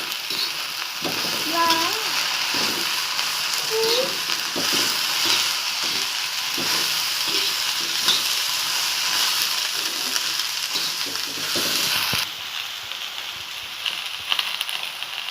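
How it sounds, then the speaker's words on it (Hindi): Okra frying in oil in a pan for bhindi ki tarkari, a steady broadband sizzle throughout with occasional stirring scrapes and faint voice-like tones, close and fairly loud. "अब हम भिंडी को अच्छे से भून के लेंगे।"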